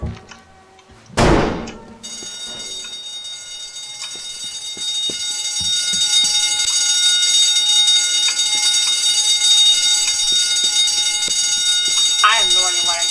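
A fire alarm in the video game Teardown, set off during a mall demolition, rings as a steady bright tone that holds for many seconds after a dull thump, loud and continuous with faint background noises.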